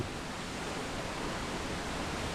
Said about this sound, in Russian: Протачивая узкие проходы в скалах, они срываются вниз шумными водопадами.